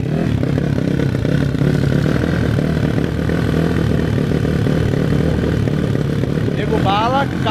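A 470cc motorcycle engine running on a busy street, a loud, continuous, rough mechanical drone with clattering texture, with people talking over it.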